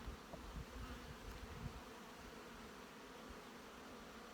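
A faint, steady hum of honey bees buzzing inside an opened hive in early May, a continuous low drone with no voices.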